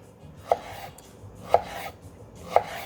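Three sharp, evenly spaced chops of a knife through mango flesh onto a cutting board, about one second apart, crisp and close with quiet between them.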